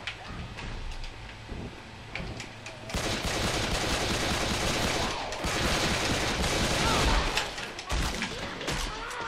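Gunfire from shooting zombies in the video game Left 4 Dead 2: sparse shots at first, then a dense, sustained volley of rapid bursts and crashes, loud and close, almost uninterrupted.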